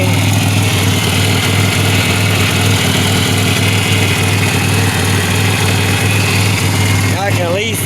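A 2007 Pontiac Grand Prix engine idles steadily with a low, constant hum and a faint engine whine, recorded close and loud, and a voice speaks briefly near the end.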